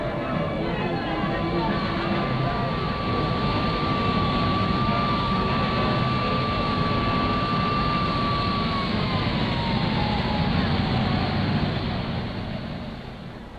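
A fixed-wing airplane at an airport in 1962 drones with a steady loud engine roar and a sustained whining tone, continuous for the whole stretch, heard over a crowd's background rumble.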